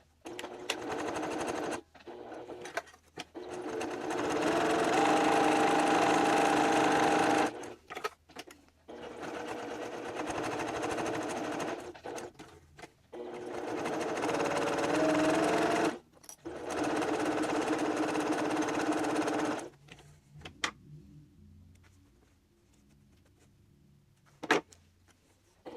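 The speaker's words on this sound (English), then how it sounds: "And we are going to top stitch all the way around the bookmark." A sewing machine top stitches around a small fabric bookmark in several runs of steady whirring, stopping and starting between passes, close and clear, followed by a quiet pause with faint handling clicks.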